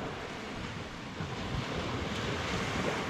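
Gulf surf washes ashore on Navarre Beach, turning over piles of shells in a steady, broad roar of breaking waves, close and continuous, with wind buffeting the microphone.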